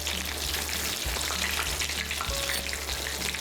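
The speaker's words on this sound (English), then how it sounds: "dealing with shallow or deep frying" Chicken tenders sizzle and crackle steadily while shallow frying in hot oil, a dense continuous frying hiss close by.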